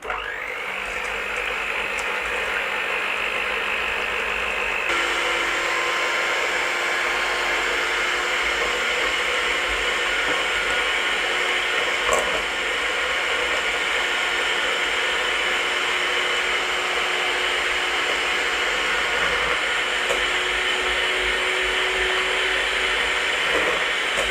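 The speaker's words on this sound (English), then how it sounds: "So in we go and start whipping." An electric mixer whips egg whites for Eton mess meringue, giving a steady, loud, close whirring drone that shifts slightly in pitch after a few seconds and keeps running without a break.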